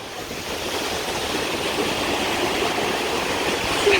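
Ocean waves at a beach make a loud, continuous rushing wash of surf that swells slightly toward the end, with no voices.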